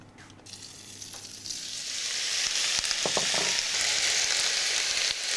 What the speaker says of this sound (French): je vais faire revenir mes champignons